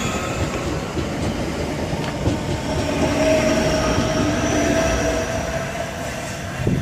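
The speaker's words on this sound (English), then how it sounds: "the 1535 Southeastern service from Gravesend to London Charing Cross via Sidcup" Southeastern class 465 electric multiple units, a Gravesend to London Charing Cross service, passing through Northfleet station: loud, close rumble of wheels and rail joints with a rising electric motor whine, steady throughout.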